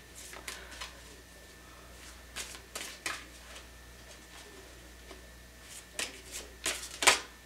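Tarot cards shuffled by hand in a quiet room, giving a series of short, crisp riffling bursts with pauses between them and a sharper flurry near the end.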